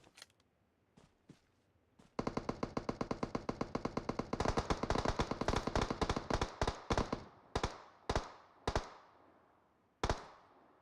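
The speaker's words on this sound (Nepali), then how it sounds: "त्यत्रो गोली चलेपछि नि के नमर्ला र" Gunfire in a battle royale video game: a few scattered shots, then a long rapid burst of automatic fire, followed by sparse single cracks separated by pauses.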